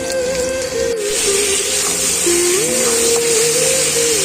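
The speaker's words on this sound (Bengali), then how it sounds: "মাছের ঝোলের আলুটা ভাজছি," Continuous sizzling hiss of potatoes frying in a hot pan, steady and close, with a faint tonal hum running underneath.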